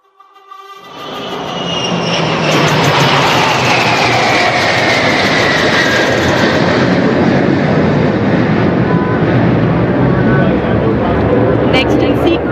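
Indian Air Force military jets at an air show rehearsal in Bhopal, including in-flight refuelling formations, roar overhead in a loud, sustained broadband rush that swells within the first two seconds and holds steady throughout.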